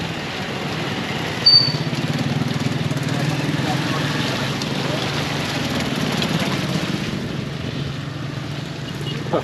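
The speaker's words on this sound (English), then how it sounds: "Some of the motorcycle taxis got plastic all over them." Motorcycle taxis pass along a beach road in Baler, Aurora Province, Philippines, their small engines making a steady nearby drone that swells and fades with traffic, mixed with outdoor street noise.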